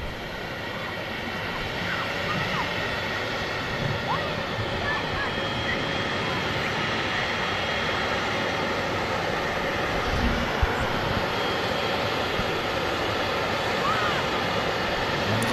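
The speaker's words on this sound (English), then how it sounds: "it's just a Jet2 A330 about to touch down from Reus" A Jet2 Airbus A330 jet arriving at Manchester Airport on approach to touch down, its engines a steady broad roar held evenly throughout, heard from a distance with no talk in the clip.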